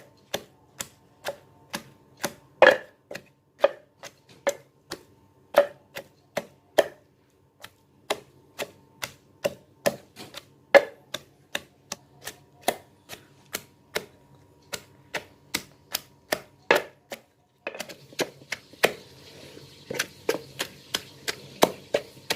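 Chili being pounded in a wooden mortar, a steady series of sharp knocking thuds, close and fairly loud, with short pauses between runs and no talk.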